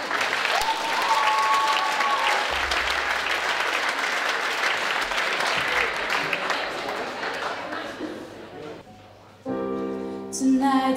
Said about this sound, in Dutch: daar geeft ze een enorm groot applaus